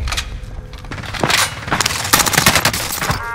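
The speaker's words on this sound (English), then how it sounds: "Flashbang!" A flashbang grenade goes off in a video game firefight, a loud sharp blast amid a rapid cluster of gunshot-like cracks and clattering bursts over a few seconds.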